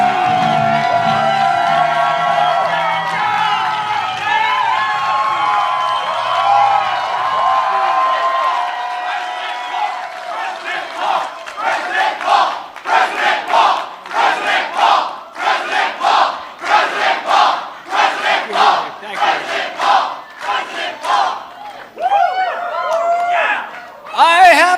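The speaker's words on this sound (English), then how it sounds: "this is going to be a very raucous crowd" A raucous crowd at a campaign rally for Rand Paul's 2016 presidential announcement roars, with sustained loud cheering giving way to rhythmic chanting and whoops that rise and fall in waves.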